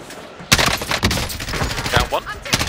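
Bursts of rapid gunfire from a Call of Duty multiplayer match, loud and close, in sharp clustered volleys over roughly two seconds, with faint voices now and then.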